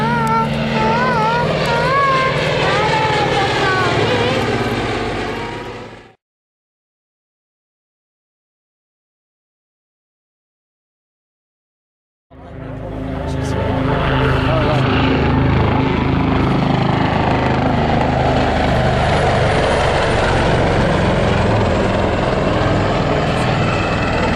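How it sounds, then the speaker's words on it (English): A display aircraft performs at the Southport Air Show, a loud, rough engine roar cut by a silent gap of several seconds, then returning broad and heavy, with a commentator talking over it. "the aircraft just complete going up to a 360 degree and turning back"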